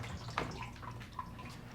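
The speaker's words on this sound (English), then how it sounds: "It should be flowing through the pipes. And I could already hear it draining." Pumped water flowing and draining through the pipes of an NFT hydroponic system, a soft steady trickle with a few light drips and gurgles, fairly quiet and close.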